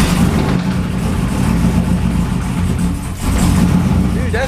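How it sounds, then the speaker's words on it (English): A loud, lumpy supercharged LSA V8 engine in a 2007 Chevrolet Trailblazer SS idles steadily and roughly, with a deep uneven rumble throughout and a brief dip near the end. "I cannot believe it's idling."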